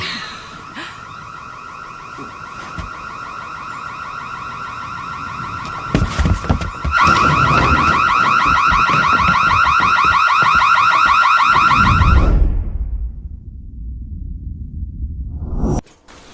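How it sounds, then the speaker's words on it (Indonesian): A loud house fire alarm, set off by forgotten cooking, blares continuously with a steady high tone, holding for several seconds before cutting off, leaving a low rumble and brief noise. "mengaktifkan alarm kebakaran di rumahnya"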